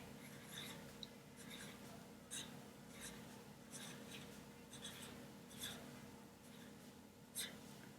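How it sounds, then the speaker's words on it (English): Hand writing of Spanish words with ñ, faint scratchy pen or pencil strokes on paper in short repeated bursts, quiet and close. "Let's write a few words with ñ."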